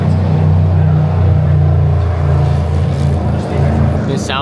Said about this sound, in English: The sound of the Cadillac is the coolest one, hands down.